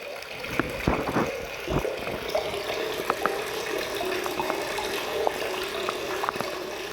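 Water runs through newly installed house plumbing during a renovation, a steady close rushing flow with faint irregular splashes and knocks and no talk.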